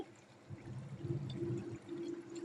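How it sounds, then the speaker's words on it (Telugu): Water pours steadily into a pot of beans and chicken curry with a low, hollow gurgle, fairly quiet and close, running for a couple of seconds. "బాగా కలుపుకున్నాక తగినన్ని నీళ్లు వేసుకోవాలి, కూరకు తగినన్ని."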